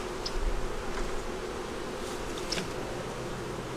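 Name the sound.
honeybees buzzing around a hive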